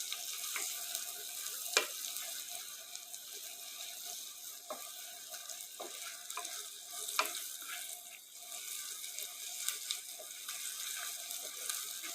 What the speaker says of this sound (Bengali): এটাকে একটুখানি লালচে করে ভাজছি একটু ঘি এবং পেঁয়াজের মিশে